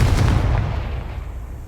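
Confringo explosive curse spell in Hogwarts Legacy goes off as a single sharp, booming blast up close, its heavy low rumble decaying over the next second and a half.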